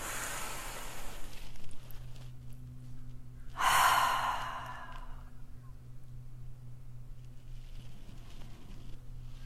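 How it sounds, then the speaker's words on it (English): A deep breath during a calming ritual, heard as one short, close, breathy burst over a steady low background hum. "Deep breath in."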